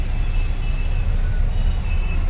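A vehicle pulls up with a low engine rumble filling the background, while a thin reversing beep sounds faintly and intermittently above it; no one speaks.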